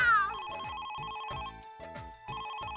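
Telephone ringing in a Hindi family drama, a bright electronic ring repeating in steady bursts with short gaps, loud and close, heard on its own before anyone answers.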